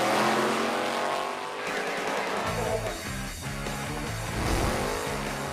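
Drag racing car at Emirates Motorplex in Dubai, a loud sustained engine roar with tyre squeal as it burns rubber, rising and shifting in pitch over several seconds with no talk.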